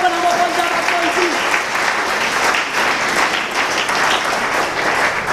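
Audience applause in a church or worship gathering acclaiming the king of kings, a dense steady clapping filling the room throughout, with a voice briefly audible at the start.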